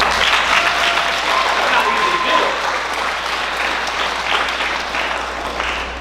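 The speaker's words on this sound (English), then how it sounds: "I believe that deserves a round of applause." A TEDx audience applauds a talk about sustainable creative careers, a dense steady wash of clapping that carries through the whole stretch with some crowd murmur mixed in.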